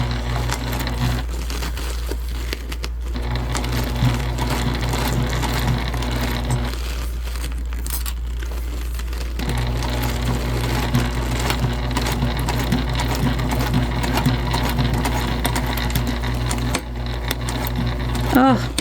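Sewing machine stitching a clutch bag with a continuous low mechanical hum and rattle, briefly pausing partway, running on until the bobbin thread runs out; a person talks over it.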